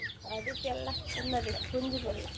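A chicken clucks repeatedly up close in short, choppy bursts, the calls tumbling one after another.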